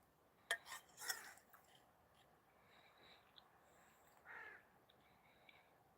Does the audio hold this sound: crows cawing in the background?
yes